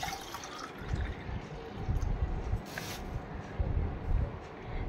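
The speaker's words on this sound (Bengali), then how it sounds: "জল দিয়ে দেবো।" Ganges water poured over an ice idol of Shiva at a home ritual, a soft continuous splashing and trickling stream with small drips, close and moderately quiet, with no talking over it.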